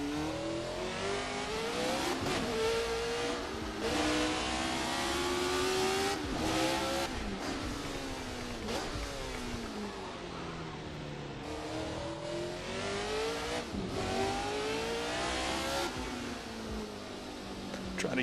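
A 1970s Formula 1 car in the Assetto Corsa racing game screams through rising and falling gear changes, a sustained loud engine wail surging and dropping over repeated upshifts and downshifts, with a voice talking faintly underneath.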